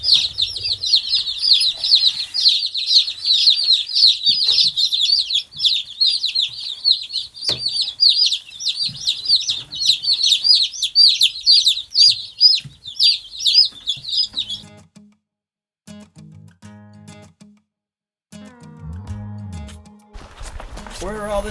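A flock of meat chickens clucks and chirps busily and close for about fifteen seconds, then falls quiet while a person talks briefly near the end.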